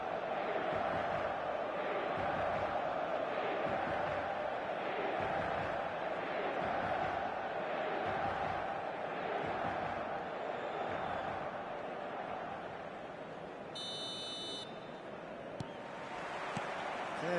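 Stadium crowd murmuring in anticipation before an Inter Milan match in the eFootball video game, a steady, moderately loud wash of distant crowd noise with a brief electronic beep near the end.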